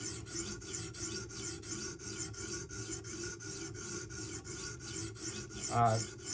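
The edge of a Spyderco Para 3 folding knife being sharpened: steady, rhythmic rasping strokes, close and fairly quiet, with a short squeak near the end.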